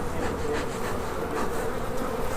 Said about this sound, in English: that sound of them working is really that's the nutshell of sounds with bees